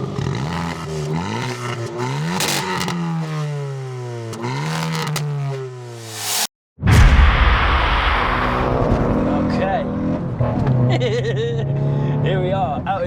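Hyundai i20N hot hatch engine, with rising and falling revs through several pulls, then a sharp break and a louder, rougher drone as the car gets underway.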